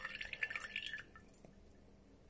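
Pour-over coffee drips into a vessel on an Acaia Pearl scale: a quiet, busier patter of small drips in the first second that thins to faint, sparse drops.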